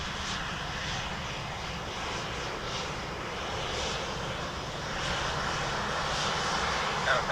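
Sherman 5 departs from runway 28 left at Dublin Airport, a steady, moderately distant aircraft engine roar that grows a little louder toward the end, with faint talk underneath.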